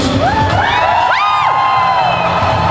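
Audience at a Streetboys and Rockafellas show screaming, whooping and cheering loudly, with high shrill voices rising and falling in a sustained roar.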